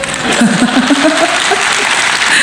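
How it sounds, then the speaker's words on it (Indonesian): Church congregation applauding, a loud, dense wash of clapping from a large crowd, with voices murmuring and calling out underneath. "Nggak usah tepuk tangan."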